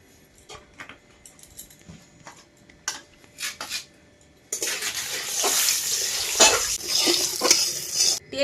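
Oil goes into a hot kadai for frying salted, turmeric-coated pond fish, with light clinks and scrapes at first, then a sudden loud, steady hiss and sizzle that fills the rest, close by.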